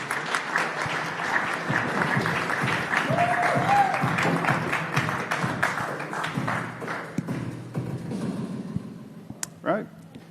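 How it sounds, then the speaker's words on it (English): An audience at a space accelerator launch day event applauds as a speaker is introduced, a dense burst of clapping that holds steady for several seconds before thinning out to a few scattered claps, with voices faintly under it. "give a big round of applause for Christopher Rodriguez"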